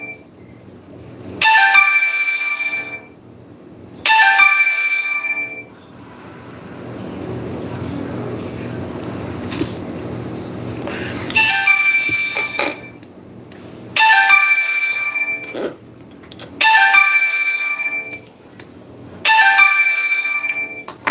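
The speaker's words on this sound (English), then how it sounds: "That's my phone ringing." A mobile phone ringtone rings loudly in six repeated bursts separated by short pauses, clear and close, with no voices.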